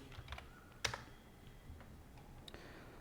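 A computer keyboard being typed on in short bursts of clicking keystrokes with one sharper key press, close and quiet, with pauses between bursts and no one talking.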